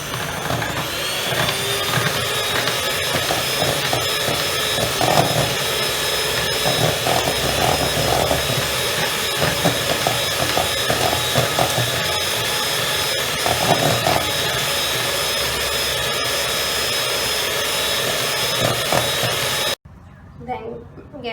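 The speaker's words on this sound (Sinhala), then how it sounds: "දැන් මේ බිත්තර කහ මද දෙක මික්ස් කරගන්න" An electric hand mixer whirs steadily while beating two egg yolks for a pineapple gateau, a loud continuous motor drone with small bumps as the beaters move through the bowl, cutting off abruptly near the end.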